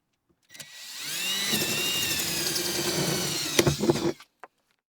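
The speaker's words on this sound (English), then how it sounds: "Our hole is drilled." A power drill whirs steadily for a few seconds, its motor pitch holding level while it bites into material, drilling a hole for a black soldier fly larvae harvester, then winds down and stops.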